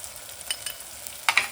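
Tomato and onion sauté with chili, garlic and spices in a pan, a soft sizzle with a few quick scrapes of a spoon near the end, close and brief.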